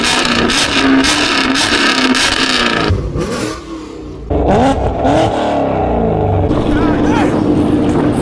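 Loud Mustang GT or Camaro SS V8 engines roaring and revving on Miami streets, a sustained harsh drone that briefly dips before surging back, with voices talking over it.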